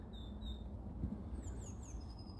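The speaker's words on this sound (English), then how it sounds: "Listen to the birds." Faint high chirps from birds flicker over a steady low outdoor rumble, distant and sparse, with no voices.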